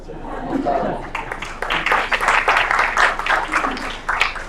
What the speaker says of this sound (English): They can clap for that.